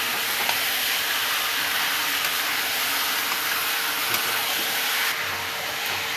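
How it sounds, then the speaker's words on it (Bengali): Chicken meat sizzles in a pan for chicken kosha, a steady broad frying hiss that holds close and even throughout, easing slightly near the end, with no voices. "এবার আমি মাংসটা তুলে দিচ্ছি।"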